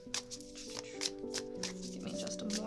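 Tarot cards are shuffled by hand in quick, crisp bursts of riffling and sliding, close and fairly quiet, with a soft low tonal hum underneath.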